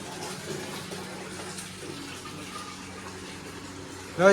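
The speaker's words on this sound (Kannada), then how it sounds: "ಮೇಲಿಂದ ಕೆಳಗಡೆ ನೀರು ಬೀಳ್ತೈತೆ" Water pouring down from above in a hidden spot in Goa, a steady broadband splashing rush that continues evenly throughout, with a short voice at the end.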